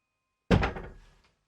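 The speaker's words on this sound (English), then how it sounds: "the bedroom door comes crashing into the bed" A bedroom door crashes into a bed with a single loud, heavy thud that rings out and fades over about half a second, alone in an otherwise silent room.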